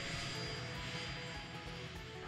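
A small floatplane takes off from a mountain lake on the South Nahanni River in 1974, its engine a steady, fairly distant drone that holds level throughout with no voices over it.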